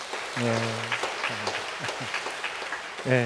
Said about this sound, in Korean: 여러분들 결혼해서 행복하게 잘 살라고 한번 격려의 박수 쳐주시길 바랍니다